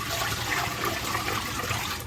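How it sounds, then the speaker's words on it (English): Water from a stovetop pot boiling over and spilling, a steady rushing, fizzing wash at moderate level, continuous for a couple of seconds with no voices. "Oh my gosh, I let my water way overflow."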